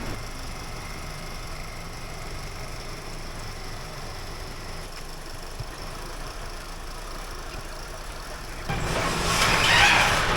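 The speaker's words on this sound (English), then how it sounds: "I'm going to start it up for the first time" A Mercedes GL320 engine runs steadily at idle after brake repair work, a low continuous rumble, then grows louder near the end as revs rise.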